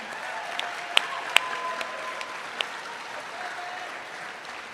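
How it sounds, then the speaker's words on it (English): Sustained audience applause at a 2025 high school graduation ceremony honouring a scholarship recipient, a steady bed of mid-distance clapping from a seated crowd with a few sharper individual claps standing out near the start. "give him a round of applause"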